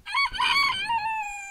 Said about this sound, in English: soon the rooster will crow.